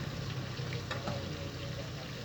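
Fish frying in hot oil in a Caribbean home kitchen gives a steady, close sizzle with faint crackles and pops, continuous and without talk.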